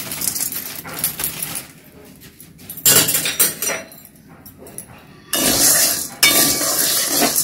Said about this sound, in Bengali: লুচিটা তৈরি করার জন্য আমি একটা কড়াই 250 গ্রাম সাবু আমি দিয়ে একটু নেড়ে নেড়ে একটু গরম করে নিতে হবে